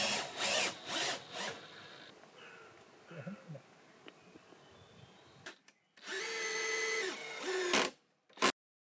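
A power drill drives screws in short bursts: several brief whirring runs early on, then one long, steady, loud run near the end, with quiet pauses between them.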